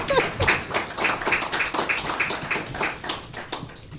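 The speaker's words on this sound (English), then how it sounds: "I think that deserves a round of applause as well." A round of applause from the audience at a laureates awards ceremony, a quiet, steady patter of many hands clapping at some distance for about four seconds, with no voices.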